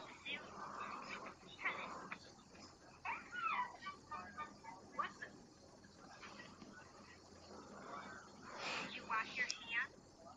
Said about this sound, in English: Oh, it's a dog.